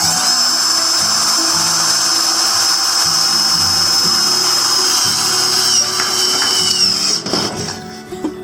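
Power drill whining steadily as it drives self-piercing screws into a corrugated metal fence on wood posts, a loud continuous high-pitched motor drone that cuts off with a rattling clatter near the end.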